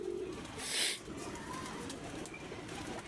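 A single soft pigeon coo close by, faint, over quiet background ambience.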